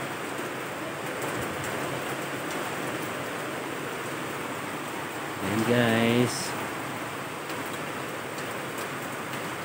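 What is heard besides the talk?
heavy rain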